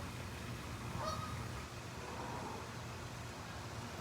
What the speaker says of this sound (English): The geese are coming in.